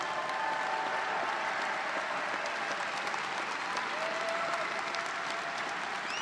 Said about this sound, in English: one more round of applause for all of our Bachelor of Science candidates today